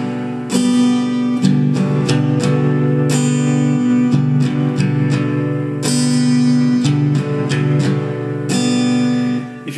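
Acoustic guitar playing a Hindi song strumming pattern, steady down and up strokes alternating between the bass and higher strings, loud and close, with sharp bright strum attacks over sustained chords and no talking.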